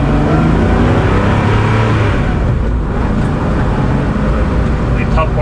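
A 1992 Porsche 964 Carrera RS Clubsport drives with a loud, steady engine drone and road rumble heard from inside the car, continuous and unbroken throughout.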